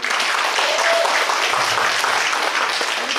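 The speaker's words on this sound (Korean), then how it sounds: "다시 한번 박수." A crowd at an outdoor stage performance of traditional Korean gakseori street entertainment claps together, a loud, dense burst of applause lasting a few seconds with no speech over it.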